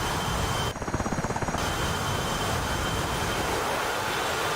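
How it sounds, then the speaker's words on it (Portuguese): Refueling tanker aircraft in DCS World flight simulation, a loud steady engine drone and rushing airflow throughout, with a brief pulsing flutter near the start and no voices. "Olha o tanker."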